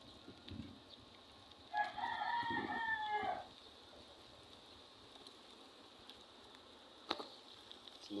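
A rooster crows once in the middle distance, a rising then held call lasting under two seconds, against a quiet outdoor background.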